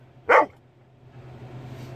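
A pet dog gives a single sharp, close bark indoors in the evening, followed by quiet room hum and faint rustling.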